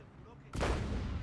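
In a Company of Heroes 3 match, an artillery barrage erupts suddenly as a broad, heavy blast that rumbles on after the first hit, with commentator talk underneath.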